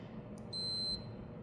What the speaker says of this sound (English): take your two multimeter leads like this, touch them together, you'll get a beep on your multimeter there